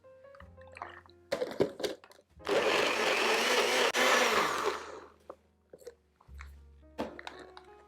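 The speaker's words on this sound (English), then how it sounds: "And we're just going to blend this up." A kitchen blender whirs loudly for a couple of seconds, pulverizing dates for vegan cornbread batter, framed by clinks and handling noises before and after.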